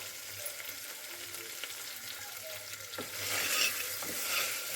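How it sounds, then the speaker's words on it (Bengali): Meat being stir-fried in oil for Bengali kosha, a steady close sizzle with scraping stirs throughout that grows louder in the final seconds, no voices. "তো মাংসটা আমি ভালো করে কষিয়ে নিচ্ছি।"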